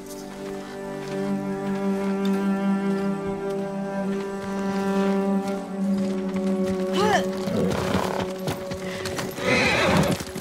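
A horse in the video game Ghost of Tsushima gives loud, close whinnies over a steady clip-clop of hooves, with a second, rougher snort and whinny near the end.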